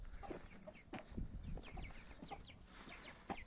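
Backyard chickens and their first-hatched chicks in a coop cluck softly, with scattered short calls and peeps over a faint, low background.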